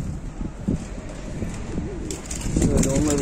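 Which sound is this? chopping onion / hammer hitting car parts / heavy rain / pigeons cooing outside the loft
pigeons cooing outside the loft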